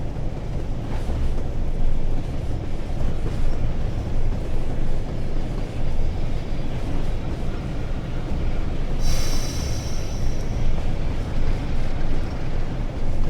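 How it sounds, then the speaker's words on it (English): A Class 47 diesel locomotive in a train simulator slowing under its loco brake, a steady rumbling roll with constant low engine drone and a brief hiss partway through, no talking. "I'll just let the loco brake bring the speed back gently."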